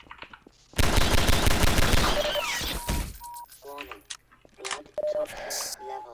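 Rapid gunfire bursts in the video game Half-Life 2: Episode One, a loud sustained volley followed by scattered shots, clicks and short electronic game sounds.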